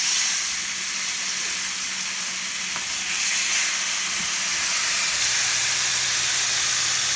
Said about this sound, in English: You can go ahead and place your steaks in there.